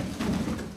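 Pigeons at a dovecote in Cappadocia, Turkey, give a short, low, soft coo that is faint and brief, with no one speaking.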